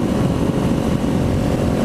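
A Kawasaki Ninja 400 motorcycle fitted with a new aftermarket exhaust runs while being ridden, giving a loud, steady low engine drone with no breaks.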